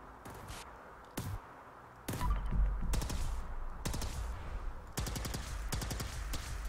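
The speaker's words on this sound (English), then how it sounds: "That was the Institute Turboplasma Rifle." The Institute Turboplasma Rifle, a modded weapon in Fallout 4, fires in loud rapid bursts of sharp energy shots, with a few single shots first and then fast repeated volleys over a low rumbling background.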